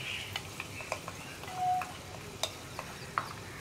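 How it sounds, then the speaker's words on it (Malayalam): Chili tempering goes into a pumpkin and lentil curry, giving a faint low sizzle with repeated light clicks and taps of a spoon against the pot and a brief swell partway through, quiet throughout with no talking. "ഞാൻ എന്താ കറിയിലേക്ക് നമ്മുടെ വറവ് ചേർക്കുകയാണ്."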